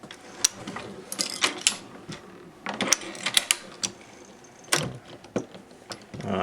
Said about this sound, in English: now I'm going to start cranking it around